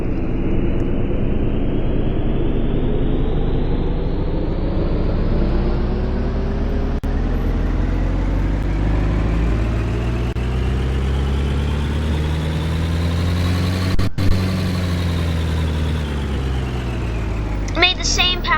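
A Roblox game car engine runs on a dyno, a loud droning engine note rising steadily in pitch as it revs up over many seconds, with a brief click near the end.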